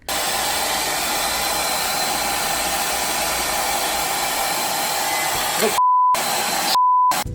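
A hair dryer blows steadily at close range on a Godzilla toy, a loud continuous whoosh interrupted near the end by two short electronic beeps.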